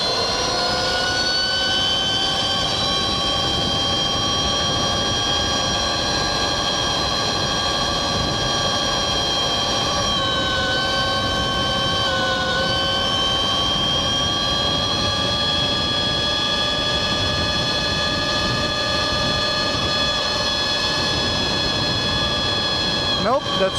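A Nexvey Flash PRO 60V electric dirt bike running flat out at top speed gives a loud, steady high-pitched electric motor whine with layered tones that shift slightly in pitch, under heavy wind rush throughout.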